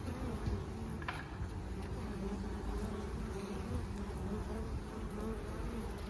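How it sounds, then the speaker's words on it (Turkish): Honeybees return to the hive carrying pollen in the evening after rain, making a dense, continuous buzzing hum that stays steady and close throughout. "Saat akşam 6 ve arılarım polen getiriyor."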